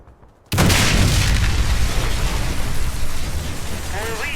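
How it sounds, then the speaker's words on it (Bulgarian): A bomb detonating in a video game round, a sudden loud boom that swells into a sustained roaring blast and rumble, with a voice speaking faintly underneath near the end. "Бомба взорвана."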